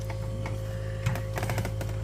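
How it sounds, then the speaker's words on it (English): A Kia 3.3L GDI intake manifold is lowered onto a Sorento or Sedona engine, giving a few soft knocks and light clicks near the middle of the clip over a steady low hum. "I'm gonna carefully sit the intake in place"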